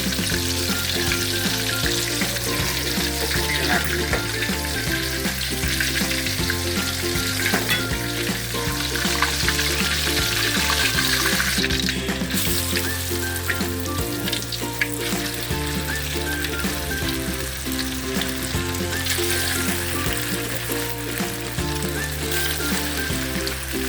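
Steady, loud sizzling of chicken frying in hot oil for Chinese-style orange chicken, a dense continuous crackle with music playing underneath throughout.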